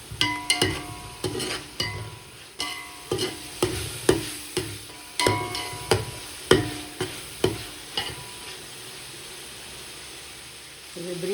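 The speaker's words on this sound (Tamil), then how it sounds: "அடி பிடிக்காமல் கிண்டிக்கிட்டே இருக்கணும்." Mutton biryani masala is stirred in a pot for seeraga samba biryani. Rhythmic, repeated scraping strokes of a spoon against the pot bottom sound over a soft sizzle, close and steady, before fading to a quiet simmer.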